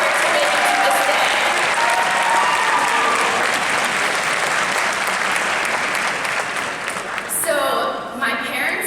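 Graduation crowd at a VCU ceremony applauding parents and families, a loud, dense, sustained wash of clapping close around, with brief cheering near the end.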